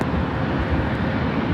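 A United heavy Airbus airliner on short final approach to runway 24 right at LAX, a steady loud broadband jet roar close by, with no voices heard.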